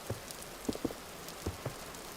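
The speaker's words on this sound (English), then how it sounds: "It's been raining for days" Rain in the survival game Vintage Story, a faint steady hiss of rainfall with a few soft, scattered drops tapping close by.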